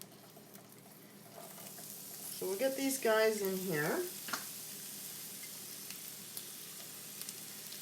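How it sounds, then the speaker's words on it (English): Onion and pork sizzle in hot oil in a home kitchen, a steady crackling hiss that continues throughout, with a stirring clatter midway and a person talking briefly over it. "We'll just do a little test onion. Oh, yeah, sizzling."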